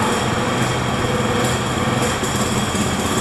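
A Honda Spacy scooter engine, freshly started after a battery change and warming up, idles steadily with a loud, close, buzzy high-pitched drone throughout.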